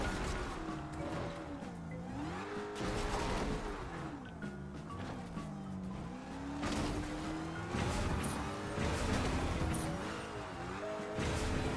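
A car's engine drones and shifts pitch while driving in a video game, its tone rising and falling through gear changes, mixed with bursts of game sound effects and impacts.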